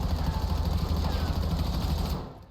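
A weapon being tested in Black Ops 7 fires continuously in rapid automatic fire. The dense, steady rattle carries a low rumble and fades out at the very end.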